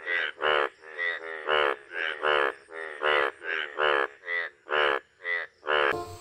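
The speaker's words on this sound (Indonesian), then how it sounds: "Wow, lihat, kodoknya lagi ngorek, teman-teman." A frog croaks in a steady rhythm, about a dozen evenly spaced, raspy pulses, each roughly a quarter second long, close and clear against near silence.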